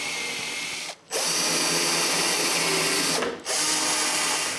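An electric drill bores dowel holes in wood for a chest of drawers, whining loudly and steadily, with two short pauses where the trigger is released between holes.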